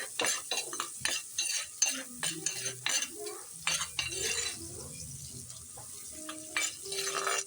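Green chilies sautéing in a pan while being stirred, with close, repeated utensil scrapes and clinks over a light sizzle, in uneven bursts throughout.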